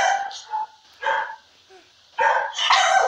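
Several dogs bark in short, close, loud bursts with yips in between, uneven and irregular, with quiet gaps between the barks.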